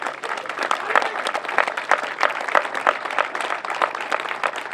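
Applause from the crowd at the 2014 Limerick intermediate football final presentation between Na Piarsigh and St Senans: a steady, dense run of clapping throughout, fairly loud and close, with some crowd murmur mixed in.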